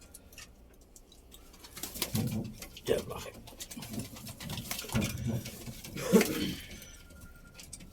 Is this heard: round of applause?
no